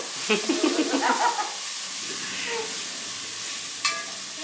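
Ginger paste and tomato puree fry in a pan, giving a steady sizzle with stirring scrapes and crackles, close and fairly loud in a home kitchen.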